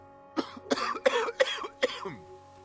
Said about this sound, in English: I got to take care of this guy's cough before he dies.